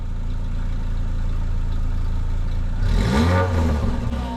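A Renault Clio 3 RS engine idles steadily, then revs up sharply near the end with a rising, throaty burst.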